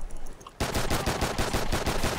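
Gunfire in Call of Duty Ghosts multiplayer bursts in suddenly after a brief quiet moment, a loud, rapid automatic stream of evenly spaced shots.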